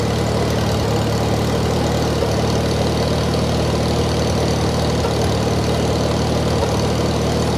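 A 1953 Farmall Cub tractor engine idles with no muffler fitted, a steady, loud, even chugging rumble that runs unbroken and close throughout.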